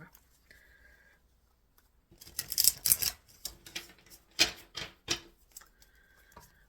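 Tarot cards being shuffled, a burst of dry papery riffling and tapping in several quick clusters after a quiet start, close and fairly soft, with no talk over it.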